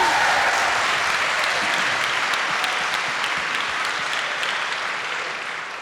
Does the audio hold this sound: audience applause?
yes